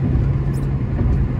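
Steady low engine drone from a Hyundai Grand i10 Nios cruising in third gear, loud and continuous from within the car, with no voices.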